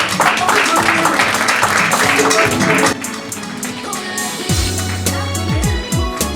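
Clapping from an audience at an Afro hair day event in a Paris salon rises for about three seconds, then drops away as music with sustained tones takes over.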